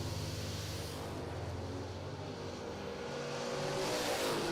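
Dragster race cars on a drag strip give a steady, fairly distant engine roar that swells slightly toward the end, with no voices.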